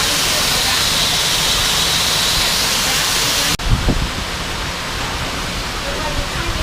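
Loud, steady rushing water at a wastewater treatment plant fills the first half, then cuts to a softer broadband flow with some low rumbling thumps, heard up close.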